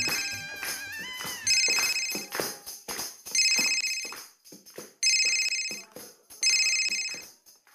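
A phone rings with a melodic electronic ringtone for an incoming call, five loud, evenly spaced bursts with short pauses between them, heard alone and close.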